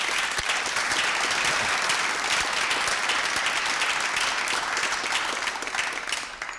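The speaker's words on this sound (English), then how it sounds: "it deserves an extra applause for this group" Audience at a master's graduation ceremony claps in a dense, sustained burst of applause, loud and even for several seconds before tapering off near the end.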